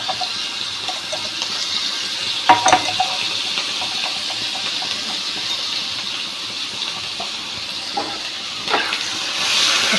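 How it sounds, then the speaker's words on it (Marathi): Crushed chillies hit hot oil in a home kitchen pan, giving a steady broad hiss of sizzling with a few brief louder crackles and spits, continuous and fairly close. "जरसं तेल घेतलंय आणि आपण ह्या मिरच्या ठेसून घेतल्या होत्या, आता त्या टाकू"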